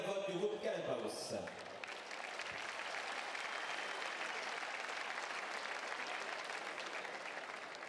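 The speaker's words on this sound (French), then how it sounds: "Je vous demande d'applaudir monsieur Arnaud Le Guillard" Crowd applause at a tennis tournament award ceremony after a final, steady and sustained throughout, following a few seconds of announcer speech over a public address system at the start.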